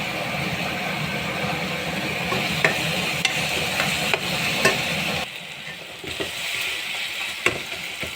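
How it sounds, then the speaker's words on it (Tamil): Tomatoes cooking down with salt in a pan for black chickpea biryani, with a continuous close sizzle, scraping stirs, and several sharp spatula clicks, lighter after the midpoint. "தேவையான தக்காளி பழம் நல்லா வதக்கணும்"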